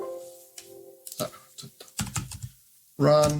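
Typing on a computer keyboard during a Windows setup walkthrough, scattered key clicks in short bursts at close range, ending with a louder burst, with faint background hum.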